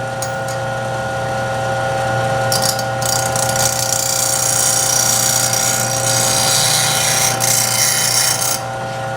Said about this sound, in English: What I'm now doing is creating a back bevel on this tool.